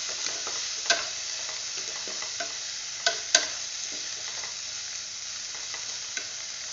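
Spoon stirring turmeric into an amla pickle in a pan, a steady scraping with a faint sizzle and scattered sharp clicks of the utensil against the pan.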